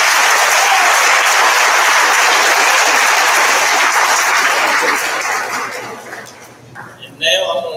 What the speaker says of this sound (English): please join me in a round of applause, not only for our students,